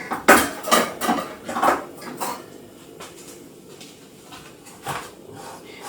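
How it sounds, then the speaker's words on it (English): A cake is shifted onto a microwavable plate, giving a few clattering knocks of crockery and utensils near the start, then fainter scrapes and taps. "I'll just move the cake onto this plate."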